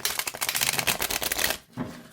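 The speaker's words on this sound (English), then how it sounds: "let's see how it shuffles here" Dune Bene Gesserit tarot cards being shuffled, a rapid close run of crisp clicking riffles, then a brief pause and a short final flutter.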